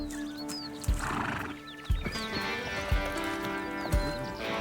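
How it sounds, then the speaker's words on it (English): Wild brumby horses in Australia: several evenly spaced heavy hoof thuds sound amid repeated neighs and whinnies, close and clear with no speech. "Horses range from their powerful 45-kilometer-per-hour gallop to the 20-kilometer-per-hour canter, the 15-kilometer-per-hour trot, down to a slow walking pace."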